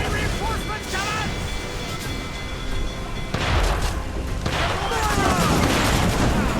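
Ship cannon fire in a naval battle in Assassin's Creed, set in 1719 among pirates: repeated heavy booms and crackling volleys, with a big burst midway and another near the end, over constant battle din and shouting voices.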